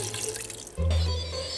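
A cup of water pours into an Instant Pot pressure cooker, a short splashing gush rising suddenly then settling, close and clear over faint kitchen background.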